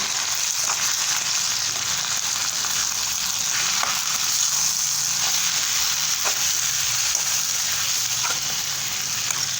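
Mixed vegetables and sesame seeds sizzle steadily in hot oil while being stirred, a constant bright hissing fry with occasional soft scraping of a spoon, close and even throughout, no speech.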